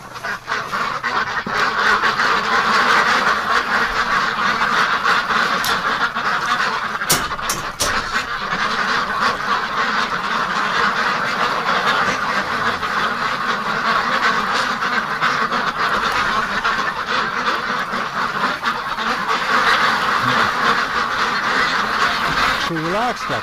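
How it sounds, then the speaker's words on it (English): Agitated ducks quack continuously and loudly in a winter night setting, a dense chorus of overlapping calls with a few sharp clicks partway through. "So relax, ducks. Why are you freaked out?"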